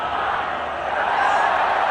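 Cricket stadium crowd roaring and cheering during a match against India, a broad, steady wash of many voices, loud and sustained throughout.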